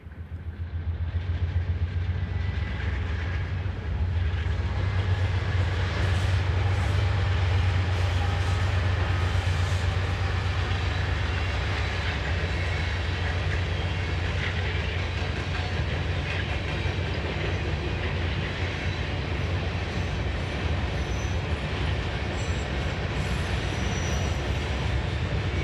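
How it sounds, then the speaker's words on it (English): A unit grain train of gravity-fed discharge wagons rolls steadily past a trackside spot in Ohio, with a continuous loud rumble and clatter of wheels on rail that holds for the whole stretch with no letup. "This is a unit grain train, featuring standard gravity-fed discharge wagons, a typical consist seen on this route"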